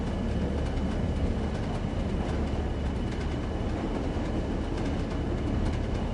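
British Rail heavy freight train cruising in the Train Sim World 2 simulator, a loud unbroken rolling rumble with faint rhythmic wheel clicks, heard from on board, no speech.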